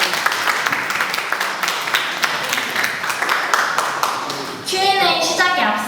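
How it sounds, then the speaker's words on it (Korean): An audience claps steadily at an online homecoming event after a special lecture, dense applause running throughout, with a voice speaking over it near the end. "다시 한번 박수 한번 부탁드립니다"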